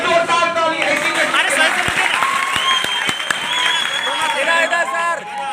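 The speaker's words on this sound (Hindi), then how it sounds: "एक जोरदार ताली ऐसी में।" An audience at a coaching-centre event in India gives loud, sustained applause. Dense clapping continues throughout with some crowd voices mixed in.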